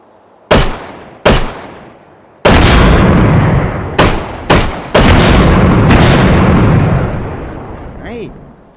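A Colt 1911 pistol fires in the H3VR virtual reality game: about six loud, close shots in an uneven rhythm, some in quick succession, with heavy echoing tails that overlap and slowly fade.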